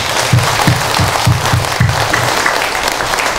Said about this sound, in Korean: 감사의 박수 한번 확 쳐드립니다